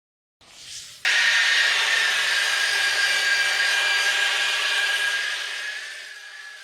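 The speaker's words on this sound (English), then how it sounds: "I had to be careful sanding the trailing edge to make sure I kept things square." Sanding the trailing edge of a sailboat rudder, a steady, loud abrasive rasp that begins after a brief softer scrape and continues unbroken, fading slightly toward the end, with no voices.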